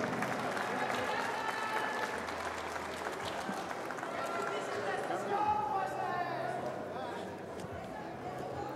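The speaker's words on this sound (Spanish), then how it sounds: "Un aplauso para las dos pugilistas" Applause for two female boxers after a fight at a Mexican boxing event rises from a crowd in a steady, moderate clatter of clapping. A voice is heard over the applause.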